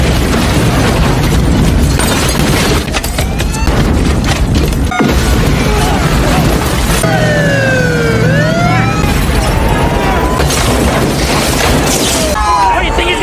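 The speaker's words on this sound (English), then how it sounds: "As armed forces approach, massive explosions destroy the area." Massive explosions tear apart a pier in the 1994 action film The Specialist, loud dense booms and rumbling blasts running continuously, layered with a film score, sirens and whistling tones, with voices mixed in.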